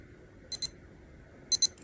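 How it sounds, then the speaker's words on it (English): Citizen dive watch alarm giving two short pairs of high, thin electronic beeps about a second apart, close and clear over near silence. "So the alarm and everything works."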